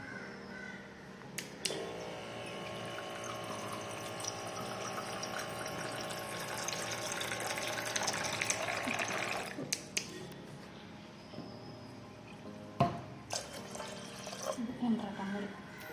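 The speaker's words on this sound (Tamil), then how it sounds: "இது கூட தண்ணி ஆட் பண்ணிக்கலாம்." Water is poured into a tamarind and tomato mixture for rasam in a village kitchen, a steady close splashing stream lasting several seconds before stopping, followed by a few clinks and a voice speaking.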